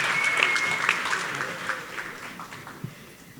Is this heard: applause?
yes